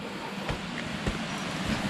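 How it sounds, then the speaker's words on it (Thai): Jet Khot waterfall roars as a steady, broad wash of rushing water heard from the approach trail, with a few faint thumps or footsteps on top and no talking. "เสียงน้ำตกเริ่มชัดขึ้นเรื่อย"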